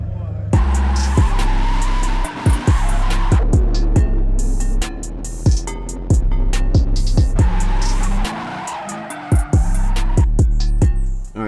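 A Mercedes SL500 converted to a stick shift on its first test drive, its engine revving and dropping in repeated pulls with tire squeal, loud and close, with brief talk in between.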